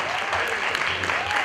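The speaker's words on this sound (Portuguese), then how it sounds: "Mas uma salva de palmas para o Castelo Branco da Juventude." An audience at an international sustainability seminar in Portugal or Brazil applauds in a dense, even wash of clapping, brief and fairly loud, with a voice faintly mixed in.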